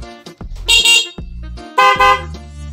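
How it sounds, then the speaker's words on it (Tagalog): Two loud blasts from a dual horn newly installed on a Honda XRM motorcycle, each held about half a second with a short pause between, sounding close and harsh. "narinig nyo din kung gaano kalakas yung ating mock horn, dual mock horn na nilagay sa motor"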